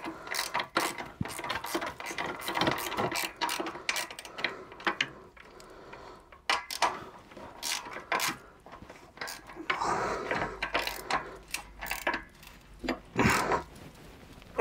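A repeated ratchet clicking from tightening a fitting while fitting a supercharger to a Hemi engine, with bursts of quick pawl clicks and short pauses, close and fairly loud, with some metallic handling in between.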